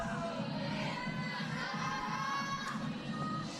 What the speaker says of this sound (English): You can hear the cheers from here.